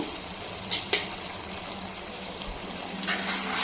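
Spoon stirring a brinjal and tomato curry in a pan, a soft continuous simmering sizzle with a few sharp clinks of utensil against metal.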